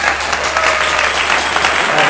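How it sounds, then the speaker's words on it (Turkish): Steady, loud applause fills a children's penalty balloon game played at home, with clapping sustained throughout and voices faintly mixed in. "Alkışlıyoruz Hiranur'u. Hiranur'u alkışlıyoruz"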